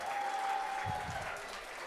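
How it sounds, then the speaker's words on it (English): A crowd at an awards ceremony claps steadily at a distance, a soft even patter of many hands, with a faint tone and a brief murmur of voices underneath. "a big round of applause for her"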